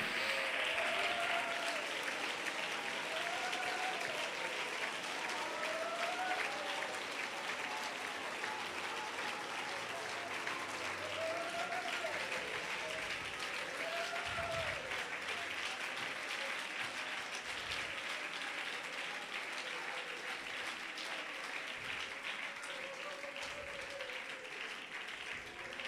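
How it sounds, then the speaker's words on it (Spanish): Sustained applause from a large church congregation during a sermon, steady and dense clapping continuing without pause for a long stretch. "Dele ese aplauso al Señor."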